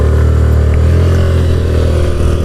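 A scooter engine drones loud and steady while accelerating from 0 to 40 in an electric-versus-petrol scooter acceleration test, with no talk over it.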